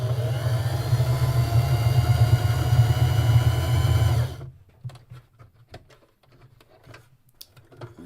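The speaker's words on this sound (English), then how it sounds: "I just sewed a seam right on the corner of my my sewing foot" A sewing machine running steadily for about four seconds as it sews a seam along the edge of the presser foot, a loud, close mechanical whir that then stops, followed by faint handling clicks.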